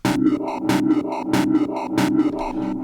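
A synth plays short, pulsing repeated notes with sharp bright attacks, washed in reverb and swept by a filter, giving a rhythmic, shimmering pattern.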